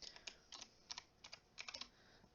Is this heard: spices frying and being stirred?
no